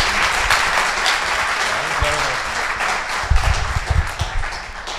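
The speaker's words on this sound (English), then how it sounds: "je vous demande de faire un tonnerre d'applaudissements pour Dan" An audience at a startup business talk breaks into loud, thunderous applause for a guest named Dan, the dense clapping joined by a faint murmur of voices and a few heavier thumps near the end.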